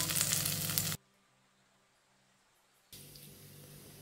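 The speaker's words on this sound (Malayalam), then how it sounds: "ഇനി ഇതിലോട്ട് നമുക്ക് വറവിട്ട് കൊടുക്കാം." Dried chillies, curry leaves and mustard seeds tempered in hot oil for an ash gourd pachadi, sizzling loudly for about a second, then near silence before a softer frying hiss returns.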